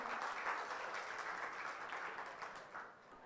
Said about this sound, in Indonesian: Boleh tepuk tangannya untuk kita semua.